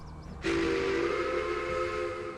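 A steady, loud train whistle in the video game Railway Empire: Japan starts abruptly and holds a sustained chord-like tone with a hissing steam edge, continuing to the end.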